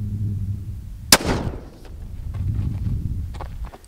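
A 6.5 Creedmoor rifle fires a single loud, sharp shot into a car, its crack decaying quickly into a low echoing rumble, followed by faint scattered thuds and room noise.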